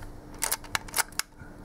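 A 1954 Leica M3 double-stroke rangefinder, serviced, fires its shutter at a slow speed: several crisp mechanical clicks spaced through the clip, close and clear with a quiet background and no talking.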